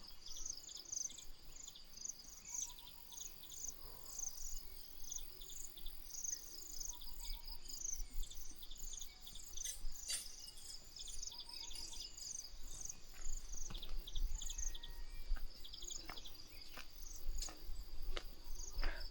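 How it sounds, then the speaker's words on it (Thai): Steady high-pitched cricket chirping throughout, with faint bird calls and quiet background noise, no talking. "เสียงจิ้งหรีดก็ยังมีอยู่นะคะ ตอนนี้"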